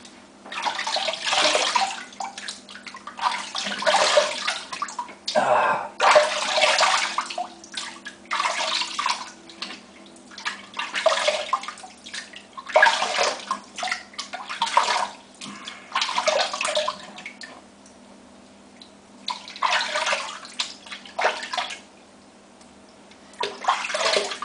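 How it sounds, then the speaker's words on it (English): Water splashes in a shower behind a curtain in irregular, close bursts of sloshing and spraying separated by short pauses, repeating throughout with no voices. "there's nothing more exciting than hearing me splash and staring at my shower curtain"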